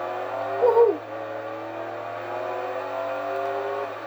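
A car engine revs steadily in the Alerte Cobra 11 video game, a sustained droning motor with a brief louder surge near the start, heard alone without talk.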